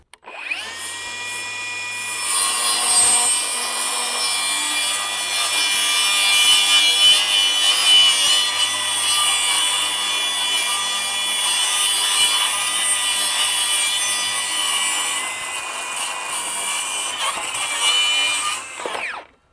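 A Milwaukee 2834 cordless circular saw spins up and cuts through wood in one long steady whining pass, loud and close, then winds down.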